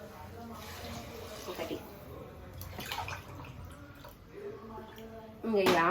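Quiet swishing and sloshing of water as rice is rinsed by hand nearby, with a sharper splash right at the end.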